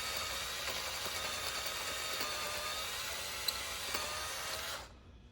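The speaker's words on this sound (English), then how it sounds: "And notice that this drill that I borrowed from the golf course is really terrible." A borrowed, worn-out power drill bores into an old golf club, giving a steady, loud, gritty whine that runs for several seconds and then cuts off abruptly near the end.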